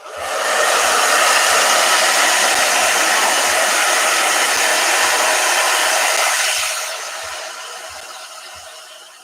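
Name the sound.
blow dryer running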